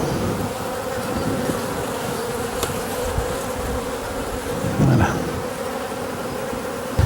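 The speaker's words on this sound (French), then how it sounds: "il ne faut pas que les abeilles m'embêtent" Honeybees buzzing steadily around an open hive while the queen is being marked, a dense close hum throughout with a few brief louder passes and a single short spoken word.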